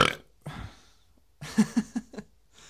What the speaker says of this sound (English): Second burp. There we go.